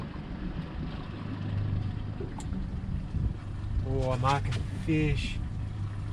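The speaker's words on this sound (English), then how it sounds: "Now I'm leaving the motor running, you can probably hear it" A boat motor hums steadily in the background while someone talks, with a couple of brief electronic beeps near the end.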